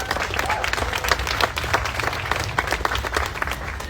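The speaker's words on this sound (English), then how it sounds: "Give yourselves a round of applause." Steady applause from an outdoor crowd at a get-out-the-vote rally for abortion access, dense clapping holding at an even level for the whole stretch, with faint voices mixed in underneath.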